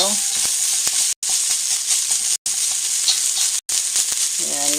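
Sweet red peppers fry in a pan for fried rice, a bright, continuous sizzle broken by three short gaps, with brief voice fragments near the start and end.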